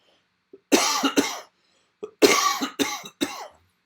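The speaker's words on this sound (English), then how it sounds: "I've still got a cough." A short series of dry coughs, close up: two quick coughs, a pause, then three more in a row.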